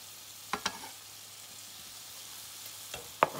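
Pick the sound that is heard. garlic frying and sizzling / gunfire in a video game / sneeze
garlic frying and sizzling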